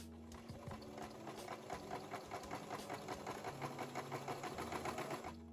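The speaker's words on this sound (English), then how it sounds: "I'm just going to sew it with a straight stitch" A sewing machine runs a straight stitch along a jacket sleeve, a fast, even needle rhythm heard close up at low volume for about five seconds.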